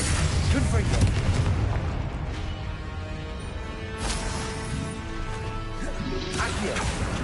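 A Confringo fire spell blast in Hogwarts Legacy, a loud booming burst with a crackling, rumbling tail and a second impact flare later, dense game effects with no talking.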